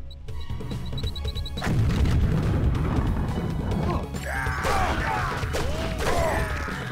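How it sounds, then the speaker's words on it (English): A grenade detonates in Deus Ex: Revision mod, a heavy booming crash with a rumbling tail, followed by further bursts and debris as nearby explosives go off in a chain. "Alright, let's give him a good old grenade."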